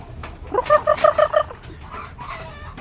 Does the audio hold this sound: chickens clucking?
yes